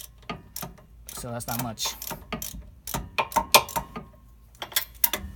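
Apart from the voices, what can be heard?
socket wrench ratcheting on Miata rear caliper bolt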